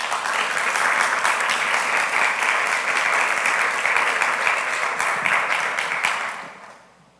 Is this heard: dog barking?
no